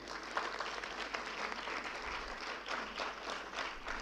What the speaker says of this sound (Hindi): मेरे बच्चे ताली बजाएंगे।